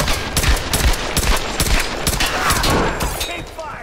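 Gunfire in the Tomb Raider video game: loud, rapid volleys of shots crackle in quick succession, close and dense, tapering slightly toward the end.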